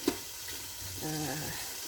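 Onions fry gently in a pan for eggplant salad, a soft continuous sizzle with a light clink near the start. The sound is quiet and steady throughout, with a faint tonal hum joining midway.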